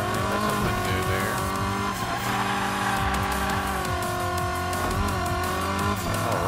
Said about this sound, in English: Doing a little turbo action while drifting